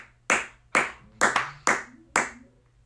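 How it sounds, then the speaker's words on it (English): A single person claps slowly, about six distinct, close hand claps spaced unevenly with brief gaps between, on a quiet background. "Ratshit gives them a thunderous applause as they leave"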